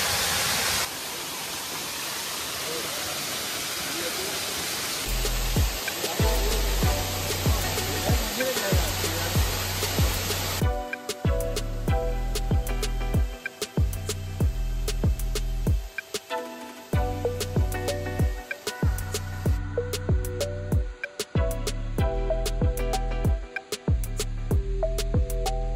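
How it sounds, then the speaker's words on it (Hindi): A natural waterfall at Deojharan roars as a steady broadband rush for the first few seconds, then a loud rhythmic music track takes over and buries the water noise for the rest of the clip. "नेचुरल वाटरफॉल का साउंड सुनिए और वाटरफॉल का व्यू देखिए"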